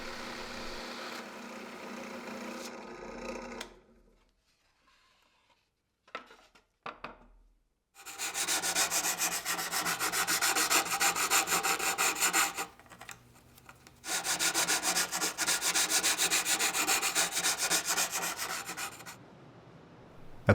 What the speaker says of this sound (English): a small sound hole can be drilled into the top and sanded smooth